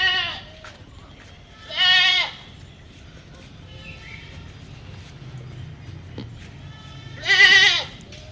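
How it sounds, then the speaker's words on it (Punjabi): A goat at the Harike Kalan livestock market gives three loud, close bleats, one at the start, one a couple of seconds in and a last one near the end, with quiet crowd murmur between. "ਆ ਬੱਕਰਾ ਤੁਹਾਨੂੰ ਦੁਬਾਰਾ ਵਿਖਾ ਦਿੰਨੇ ਹਾਂ"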